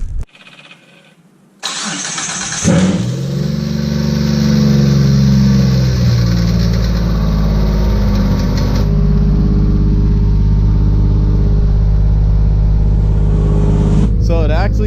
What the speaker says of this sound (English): let me give the car a start and see how it sounds.